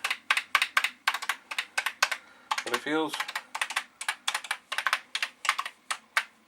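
Rapid, steady keystrokes on a Commodore 64 keyboard clatter close and clear, with a short spoken phrase breaking in midway before the typing resumes.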